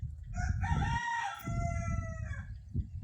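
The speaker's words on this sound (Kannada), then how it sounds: "ಮೂರು ಗಂಟೆ ಆಯ್ತಂದ್ರೆ ಕೋಳಿ ಕೂಲಕ್ಕೆ ಚಾಲು ಮಾಡಿಬಿಡ್ತಾವೆ ನೋಡ್ರಿ" A rooster crows once in a long, clear cock-a-doodle-doo, fairly close, over a low background rumble, with faint clucking and noise around it.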